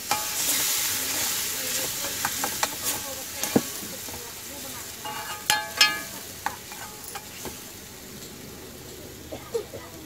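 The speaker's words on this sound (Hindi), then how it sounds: "अब इसमें हम थोड़ा पानी मिलाएंगे।" A tomato egg curry is stirred in a pan after water is added, a soft sizzle under irregular scraping and clinking strokes of the spoon, close and fairly quiet.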